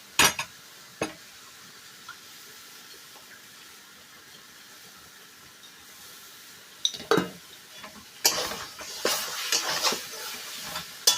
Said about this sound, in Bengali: এই যে দিয়ে আমি কিন্তু মশলাটাকে আবারও 10 মিনিট ভালো করে কষিয়ে নেব।